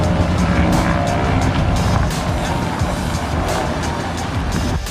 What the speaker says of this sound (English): Supa rolling up in the Volvo wagon.